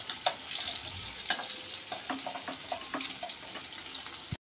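Eggs fry in oil with turmeric, a quiet crackling sizzle with scattered sharp pops and spatula clicks, close but faint, ending abruptly.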